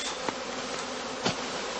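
A swarm of honey bees cast into straw skeps on heathland gives off a dense, steady buzzing drone, with two short soft knocks standing out briefly.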